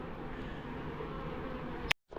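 Honeybees from a collapsed, messy swarm box hum in a steady, faint, close buzz that cuts off abruptly after a sharp click at the end.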